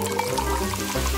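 Sprite pouring into a glass smeared with strawberry syrup: a steady, close liquid stream that runs unbroken for just over a second, with no voices.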